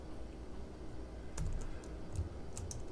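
Typing on a computer keyboard, with a steady run of light clicks that turns busier partway through, heard close over a low background hum and without talk.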